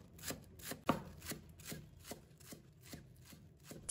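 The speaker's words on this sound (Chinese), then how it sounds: "葱叶切成葱花" A knife chopping scallion greens on a cutting board in quick, even strokes, a steady series of crisp taps at close range in an otherwise quiet kitchen.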